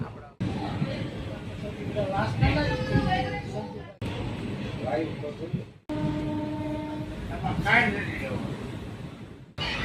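A passenger train rumbles steadily on the way to Palitana, heard from inside a carriage, with people talking throughout and a few abrupt cuts in the sound.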